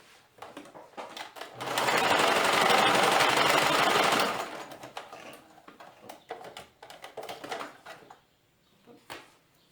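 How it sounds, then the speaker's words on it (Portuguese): A sewing machine stitches elastic onto a child's dress in one loud, fast, continuous run of about two seconds, then gives way to quieter handling and fabric rustles. "Ó, chegando aqui, eu vou passar uma costura."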